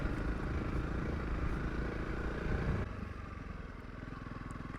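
A Honda CRF 300 Rally motorcycle riding on a sandy road, its engine droning loud and close with a rough throb that drops to a lower, steadier idle-like putter partway through.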